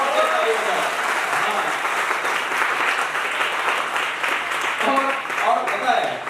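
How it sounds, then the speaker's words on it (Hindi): A seminar audience in a hall claps loudly and steadily, a dense, sustained wash of applause that holds for several seconds with only slight swells, no voices standing out above it. "और तेज ताली बजाओ"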